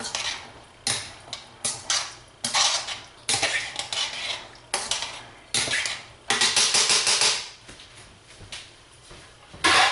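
Metal spoon stirring and scraping inside a pot while preparing baked ham, with repeated clanks and scrapes of utensil against cookware in bursts, close and fairly loud.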